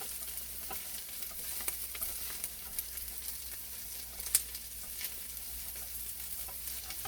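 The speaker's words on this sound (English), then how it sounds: "You hear the sizzling slowing down? The pan's cooling." Steady sizzling of ratatouille in a cooling frying pan, with soft stirring scrapes and occasional sharp pops over a continuous hiss; no voices.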